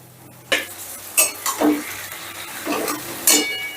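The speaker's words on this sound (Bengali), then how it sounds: "পেঁয়াজটা কিছুক্ষণ নাড়াচাড়ার পর যখন এরকম সফট হয়ে আসবে" Diced onion cubes stirred in a pan over high gas heat for egg chilli, with a spoon scraping in several separate bursts over a soft sizzle, close and moderately loud.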